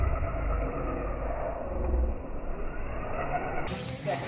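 A remote-control drift car drives at an RC drift day at a hobby shop in Vista, California, its motor whining steadily at a moderate distance, with faint voices in the background.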